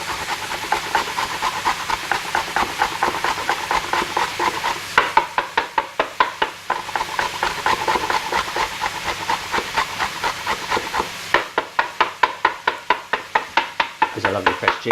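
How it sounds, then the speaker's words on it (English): Fresh ginger rubbed rapidly against a grater over a spring roll filling, close rhythmic rasping strokes in fast bursts, with a short pause midway before the scraping resumes. "grate a bit of fresh ginger"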